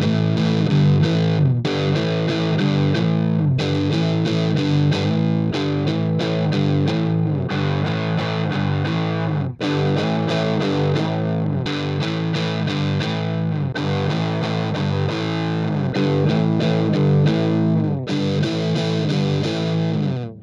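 Electric guitar played through an Electro-Harmonix Big Muff fuzz pedal with sustain set to zero, giving a mild distorted tone in sustained chords with brief pauses, loud and steady with no voices.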